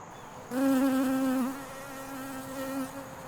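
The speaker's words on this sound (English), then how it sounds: "Oh, Garbanzo and Wormy, I'm sorry the Queen Bumble flew away." A queen bumblebee buzzes with a loud, close, tonal hum that rises abruptly, wavers, and then settles into a slightly softer steady drone as it flies off, with no voices.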